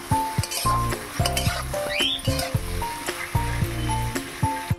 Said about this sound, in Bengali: এর মধ্যে মাংসগুলো আমি দিয়ে দেবো, মাংসগুলো একটু ভেজে নেব। দিয়ে ভালো করে নাড়াচাড়া করে নেব।